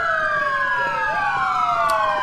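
Siren of an ambulance in the LCPDFR police mod for a video game, a loud continuous wailing sweep with overlapping rising and falling tones, heard alone with no talking.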